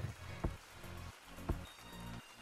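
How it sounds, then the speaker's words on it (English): Synthetic rain in a custom Gorilla Tag map in the video game, a faint, continuous hiss of falling rain with a few louder drop-like ticks repeating at roughly one-second intervals, heard without talk. "the rain is so weird"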